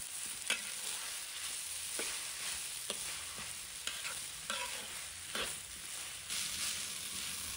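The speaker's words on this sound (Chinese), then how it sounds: "再把我们的刚才浸泡的米倒入锅中，继续翻炒均匀，把大米这样炒一下" Soaked rice and radish being stir-fried in a wok give a steady, close sizzle, broken by repeated scraping strokes of the spatula across the pan.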